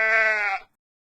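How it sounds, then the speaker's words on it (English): A single sheep bleats once, a clear, close, wavering cry lasting about half a second before cutting to silence. "Sheep."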